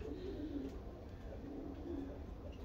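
A racing pigeon in a loft coos softly in low, rolling repeated calls against a quiet, steady background hum.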